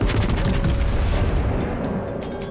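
Dense, continuous volley of warship gunfire and booming explosions in World of Warships, loud and sustained throughout with overlapping blasts and no voices.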